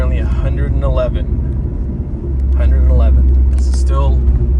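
Fourth-generation Mazda 3 fitted with a Corksport short ram intake, driving in stop-and-go traffic at about 30 mph on a hot day; a steady low engine and road rumble runs throughout, growing heavier midway, with a person talking over it.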